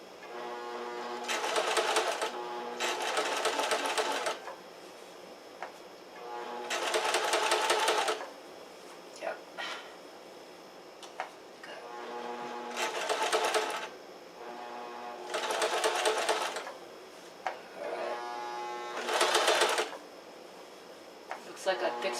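A sewing machine stitches walking shorts in repeated bursts of rapid mechanical chatter lasting a second or two each, separated by pauses with small clicks and handling noise.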